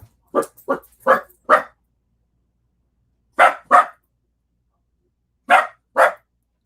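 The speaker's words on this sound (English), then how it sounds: "my little wiener's barking" A small dachshund barks indoors, close and clear: a quick run of four yaps, then a pause, a pair, another pause and a final pair, with silence in between.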